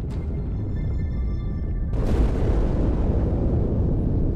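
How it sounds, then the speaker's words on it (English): A large explosion inside a ship in the video game Halo 2 hits at about two seconds as a sudden loud, broadband boom, followed by a sustained roaring rumble over low mechanical background hum. "That explosion came from inside the Athens, same as the Malta."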